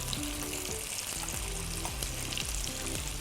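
Onion and tomato paste masala frying in a pan for bhindi masala, a dense close sizzle and crackle that holds steady throughout with no talking.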